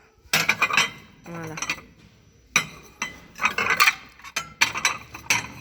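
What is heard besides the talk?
ceramic dinner plates being handled and clinking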